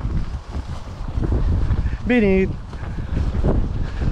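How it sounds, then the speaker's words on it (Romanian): Strong wind gusting over a fishing lake with big waves, a steady loud roar of wind buffeting the microphone throughout, with someone speaking briefly over it. "am ajuns și la lac, bate vântul cu draci, valuri mari"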